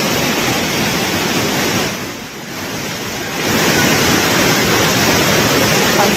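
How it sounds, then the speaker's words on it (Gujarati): Rainwater streams down the stone steps at Pavagadh after a heavy downpour with strong wind, a loud, constant rushing roar that dips briefly midway. "પગથિયા પરના દ્રશ્યો કે જ્યાંને પાણીનું ઝરણું વહેતું હોય તેવા દ્રશ્યો અહીંયાથી સામે આવી રહ્યા છે"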